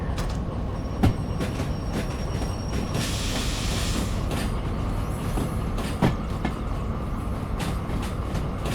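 Train rolling along the track in the Derail Valley railway simulator game, a steady rumble with occasional clanks and a brief hiss burst, continuous and fairly loud, no voices.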